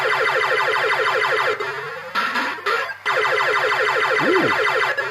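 Bellfruit Silvareels fruit machine playing a loud, busy run of rapid electronic beeping tones in repeating arpeggio patterns, with a brief pause and a swooping tone near the end.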